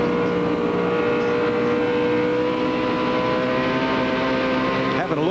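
NASCAR stock cars roar around the track at the 2004 Golden Corral 500, a loud, sustained engine drone with steady tonal harmonics as the pack runs close, an announcer's voice talking over the racing.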